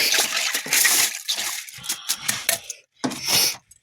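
A spoon stirs black beans with milk in a crock pot, making wet sloshing and clinking scrapes in close, uneven bursts with a brief pause before a final swirl.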